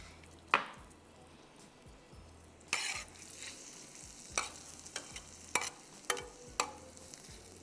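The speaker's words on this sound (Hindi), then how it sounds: "इसको आपको 5-7 मिनट फ्राई करना है, जब तक कि ये प्याज खूबसूरत सी गोल्डन होगी" Chopped onion fries in Spanish pomace olive oil on the way to golden, a soft steady sizzle punctuated by sharp spoon clinks and scrapes against the pan at uneven intervals.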